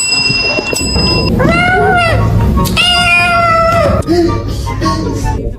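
A cat meows repeatedly, several drawn-out, rising and falling cries close to the microphone, with a person talking and background music underneath.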